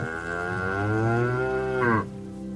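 A cow on an alpine pasture in the Bavarian Alps gives one long, loud, close moo that holds steady for about two seconds and then cuts off sharply.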